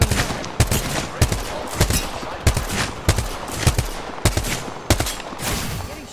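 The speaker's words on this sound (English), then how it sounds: "I am taking fire." Apex Legends gunfire: sharp, loud shots crack out at a fairly regular pace, roughly every half second, with lighter rattling fire between them.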